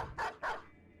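A dog in the video game Battle Brothers gives two quick, sharp barks in close succession. A faint quiet tail follows them.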